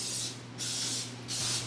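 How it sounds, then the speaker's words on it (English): An aerosol can of cooking spray hisses onto a casserole baking dish in three quick, close bursts, each about half a second long, separated by short pauses. "Always spray your baking dish because it's cheese"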